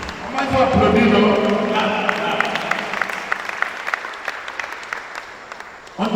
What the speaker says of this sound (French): Comment il faut applaudir non?